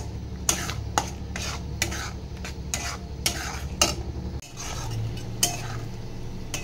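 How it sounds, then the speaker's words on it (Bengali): Spice paste made with yogurt sizzles in a pan for an egg curry, with rhythmic stirring strokes and light metal clinks of a spoon against the pan, close up, no talking. "এবার আমি যে গুঁড়ো মশলার পেস্টটা দই দিয়ে করেছিলাম ওটা দিয়ে দেব, দিয়ে ভালো করে মিক্স করে কষিয়ে নেব"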